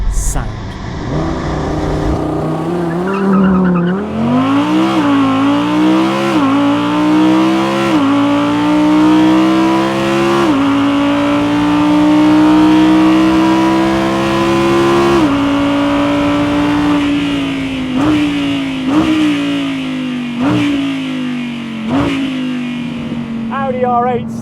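Petrol V10 of an Audi R8 GT RWD revving hard while driving, its pitch climbing and dropping through repeated gear changes in a loud, continuous, close-up howl with brief lifts between pulls, and a voice talking over part of it.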